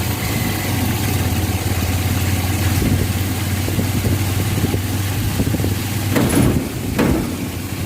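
Tricycle engine running on a rough, bumpy road, a steady close low hum with rattles and a couple of knocks toward the end, no talk.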